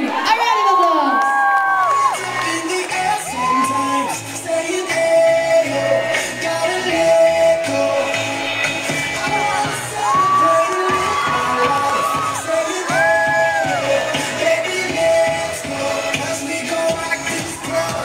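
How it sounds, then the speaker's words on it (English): A live crowd at a Billy Crawford and Daniel Ross show erupts in loud, sustained cheering, whooping and children's shouts for the blue team, with music playing underneath throughout. "A round of applause."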